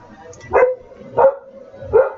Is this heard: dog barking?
yes